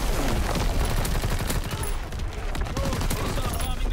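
Artillery barrage firing in a WW2 shooter game, a dense, loud rolling fusillade of overlapping blasts and cracks that continues without pause, with faint game sounds mixed in.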